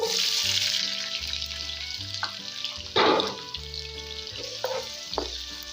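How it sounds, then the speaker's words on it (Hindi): Chopped onion sautés with cumin in a pan, a close frying sizzle with a sudden louder burst as it goes in, then stirring scrapes under background music. "तो अब इसके अंदर मैं शामिल करूंगा दरमियाने साइज की कटी प्याज।"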